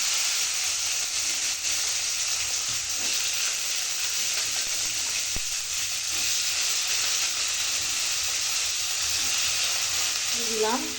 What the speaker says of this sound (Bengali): তেলের মধ্যে সবজিটা দিয়ে দিই।